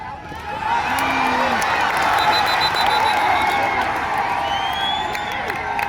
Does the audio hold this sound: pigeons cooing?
no